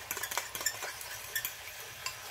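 A utensil stirs egg into sliced bitter melon (ampalaya) with tomato in a pan, giving quick, close scraping clicks in irregular bursts over a faint sizzle.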